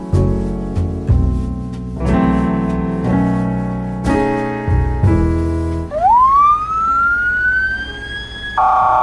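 A fire engine siren in Panama blares loud and near, its tones stepping between pitches, then sweeping up into a long rising wail.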